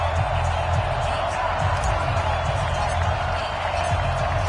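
A packed NFL stadium crowd in uptown Charlotte roars before the Detroit Lions take on the Carolina Panthers: a dense, steady wash of cheering that fills the whole stretch at constant loudness.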